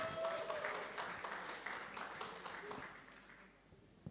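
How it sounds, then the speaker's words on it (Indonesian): An audience applauds at a New Year gathering event, a dense spread of clapping that holds steady for a few seconds, then thins and fades near the end. "Tepuk tangan buat IQOS."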